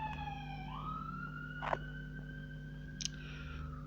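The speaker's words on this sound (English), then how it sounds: "That was an ambulance going by the way." A distant ambulance siren wails past on a road, a faint rising and falling sweep over a low background hum, with a couple of soft clicks nearby.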